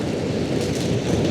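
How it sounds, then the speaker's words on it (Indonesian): Strong storm wind roars steadily through a microphone during a motorcycle tour as a heavy storm hits, a dense, continuous low rumble with no voices. "Kenceng banget anginnya coy."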